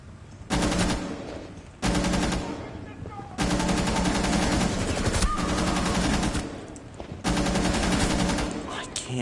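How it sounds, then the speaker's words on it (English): Bursts of rapid automatic gunfire from a video game shooter, coming in several sustained volleys separated by short pauses, loud and close with dense rattling reports and faint game sounds in the gaps. "I can't see the people I'm being shot at by"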